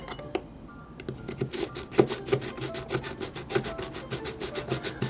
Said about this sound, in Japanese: これをゴリゴリゴリゴリっとアイホールにこすりつけます